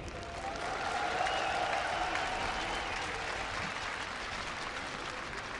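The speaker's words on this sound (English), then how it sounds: "he asked the crowd to cheer as loud as possible for him in the finals" A large crowd at the StarCraft 2 esports finals at Gamescom 2012 applauds and cheers in a dense, sustained wash of clapping that swells early, then settles while still going strong.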